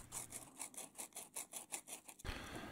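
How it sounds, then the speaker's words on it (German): Sandpaper rubbed over homemade lead bullet fishing weights, producing a quick series of about a dozen short rhythmic rasping strokes, quiet and close, ending in a brief scrape. "kann man sie anschließend mit Schleifpapier noch ein bisschen plan schleifen und ein bisschen entgraten"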